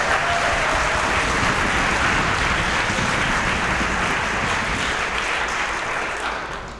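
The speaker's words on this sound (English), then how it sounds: "Round of applause." A concert audience at a chorus's 50th anniversary performance breaks into loud, dense, sustained applause that holds steady before tapering off at the end.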